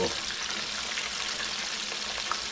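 Chicken thighs fry in hot oil with a dense, continuous sizzle and crackle, close and steady, with occasional louder pops.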